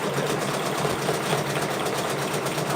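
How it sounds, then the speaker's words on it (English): Brother Persona PRS100 embroidery machine stitching a patch, giving off a steady, fast mechanical whirring and rapid needle chatter, close and continuous with no talk. "We are stitching on a Friday."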